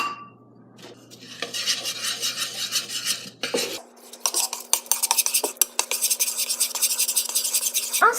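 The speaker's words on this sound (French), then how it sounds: "il faut mélanger la farine et le gruau dans un grand bol" Flour and oats are stirred together in a large bowl for homemade horse biscuits: continuous scraping and clinking of a utensil against the bowl, close and fairly loud, with brief pauses and sharper knocks.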